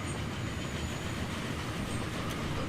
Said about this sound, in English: There might even be a Flying Scotsman in this tunnel, going very, very slowly